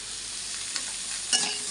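Chopped onion frying lightly in a pan gives a steady, fairly quiet sizzle, with a brief utensil scrape near the end.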